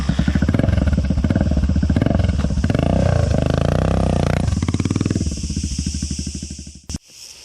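A 1989 Yamaha XT600 with about 320,000 km on it runs close by, its single-cylinder engine thumping in a steady, loud rhythm that rises and falls before cutting off near the end.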